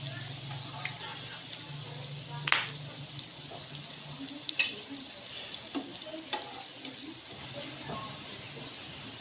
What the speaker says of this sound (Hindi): इसी तरह ही हम अपने बाकी के कबाब भी फ्राई कर लेते हैं।